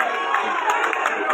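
An audience at an Odia jatra folk theatre show claps and cheers in one dense, continuous roar of crowd noise that holds steady for the whole moment, with no single voice standing out.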